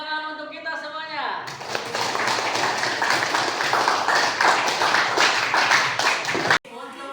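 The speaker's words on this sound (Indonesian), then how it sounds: "Tepuk tangan untuk kita semuanya." A classroom full of junior high students claps together, a dense, steady burst of many hands lasting several seconds and ending abruptly, after a brief spoken lead-in.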